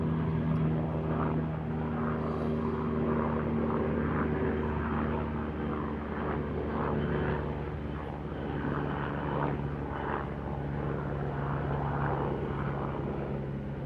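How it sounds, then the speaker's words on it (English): A helicopter drones loudly and continuously overhead, its rotor thrum and engine hum steady throughout with no voices. "I'll just let this chopper fly over."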